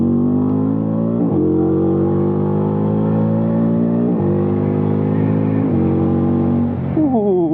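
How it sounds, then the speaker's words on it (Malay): A QJMotor SRV250 motorcycle engine braking while slowing down, loud and close, its pitch falling steadily between several quick downshift blips that step the revs back up, with a final brief rev at the end and no talk. "So kalau nak turun, dia ada engine braking, nampak?"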